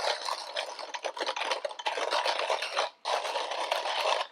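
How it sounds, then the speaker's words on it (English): Coffee beans crushed by the burrs of a grinder, close and continuous gritty crunching and scraping that breaks off briefly near the end before resuming, with no talk. "we stop hearing the burrs crushing the beans, which is getting pretty close"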